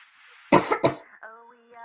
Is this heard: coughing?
yes